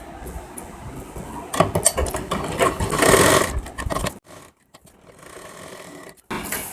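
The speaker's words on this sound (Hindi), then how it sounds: "अब इसके ऊपर मैं सिलाई लगा लेता हूँ" A sewing machine stitching along a blouse lining, a close mechanical whirring run that speeds up and stops, followed by quiet gaps broken by short clicks and a brief restart.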